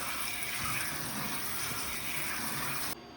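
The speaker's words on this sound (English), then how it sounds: "Rinse the lasagna sheets with cold water." Cold tap water runs steadily over cooked lasagna sheets in a home kitchen, a continuous close splashing gush that cuts off abruptly near the end.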